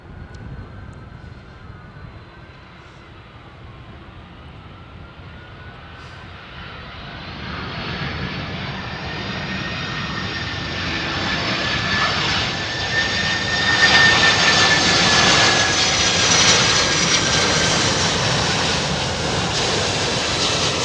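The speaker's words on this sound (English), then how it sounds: "So this is the MD-11." MD-11 trijet airliner engines at Memphis airport swell from a distant rumble into a loud, rising jet roar with a climbing whine as the aircraft passes close, holding strong to the end.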